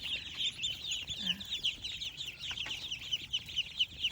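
Small ducklings on a Thai farm chirp steadily in a dense, continuous chorus, with hens clucking nearby and no talk over them.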